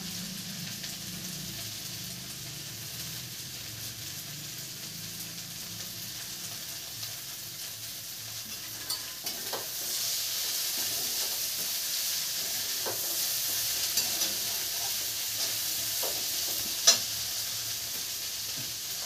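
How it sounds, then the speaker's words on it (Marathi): Okra sautés with crushed peanuts in a pan, a quiet, steady sizzle broken by occasional light scrapes and taps of stirring, with no talk. "शेंगदाण्याचं कूट टाकून घेतलं आपण ते मस्त असं छान परतून घेऊ"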